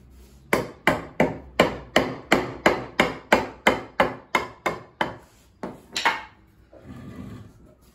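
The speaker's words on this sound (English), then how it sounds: "Extreme finesse when using a 3-pound sledge." A 3-pound sledgehammer strikes a 2010 Toyota Prius P410 transaxle in a steady run of about fourteen loud, ringing metallic blows, each decaying quickly. A pair of softer knocks and a short low clatter follow at the end.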